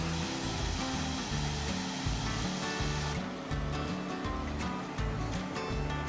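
Upper North Falls on Oregon's Trail of Ten Falls, a steady close roar of falling water with a constant broadband wash, pulsing low rumble underneath and no voices.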